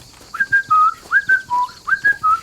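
A person whistles a short tune of about seven clear, sliding notes in a quick, lilting rhythm, with no other sound around it.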